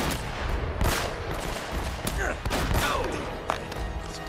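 Enemies fire from below in Uncharted: Drake's Fortune, sending repeated sharp gunshots and bursts across a busy, dense battle mix with several louder cracks.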